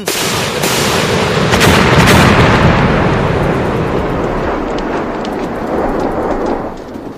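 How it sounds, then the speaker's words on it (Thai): A Scorpion tank's 76 mm cannon fires a rapid barrage, heard as heavy booming blasts that roll into a dense, continuous crackling roar with no gaps between shots. "ปืนใหญ่ประจำรถขนาด 76มิลลิเมตร ซึ่งมีมุมกดถึงลบ10องศา ก็ระดมยิงออกมาอย่างที่ได้ต่อเนื่องกัน"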